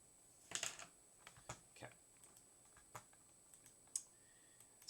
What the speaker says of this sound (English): Excuse me while I write down a note for that.